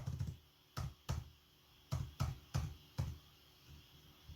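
An invoice is typed on a computer keyboard in a quiet office, with about a dozen close, soft key clicks that come in small irregular clusters and short pauses.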